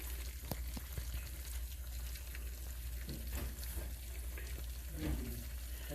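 Homemade potstickers fry in a pan with a steady, low sizzle and soft crackling pops throughout, faint and continuous with no talking.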